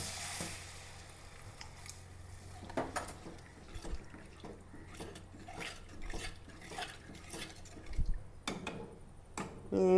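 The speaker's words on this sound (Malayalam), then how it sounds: "സമയത്ത് നമുക്ക് വെള്ളം ഒഴിച്ച് കൊടുക്കാം." Curry paste for a fish-head curry, cooked down with green chillies in a pan, takes a pour of water, bringing soft sizzling under repeated clinks and scrapes of metal utensils, with a louder clatter near the end.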